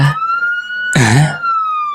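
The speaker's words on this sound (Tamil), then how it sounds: "ஆம்புலன்ஸ் வர மாதிரி இருக்கு?" A loud ambulance siren tone holds steady throughout, briefly broken by a short burst of rough vocal noise partway through.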